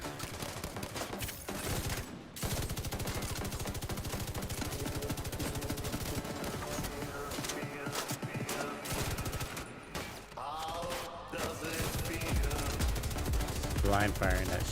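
Blind-fired automatic gunfire in The Division 2 crackles in dense, rapid bursts almost nonstop, loud and close, with brief gaps and voices talking underneath.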